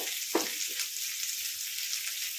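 Ivy gourd fries in oil with salt for a kovakka pachadi, giving a continuous, close hiss of sizzling and crackling with a soft stirring scrape near the start.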